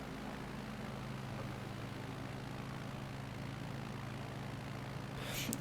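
A steady, droning plane engine hums in Microsoft Flight Simulator during a storm, continuous and moderately loud, with a brief rise of noise near the end.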